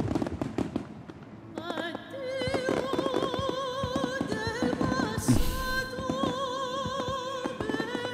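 Fireworks set off to celebrate a company's 30th anniversary, a dense run of bangs and crackles carrying over music and ambient noise for several seconds, with a brighter burst partway through.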